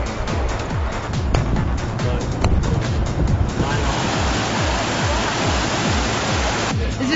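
Loud, steady rush of river rapids at a tubing and rafting spot, a broad continuous roar of churning water with no pauses and no talk.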